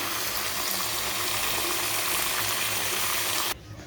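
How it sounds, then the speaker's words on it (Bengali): Water pouring into a pan of spiced meat curry being cooked for a lunch menu, a steady close hiss and gush lasting several seconds before cutting off abruptly to a quiet background. "তো মাংস কষা কমপ্লিট জল দিয়ে দিয়েছি"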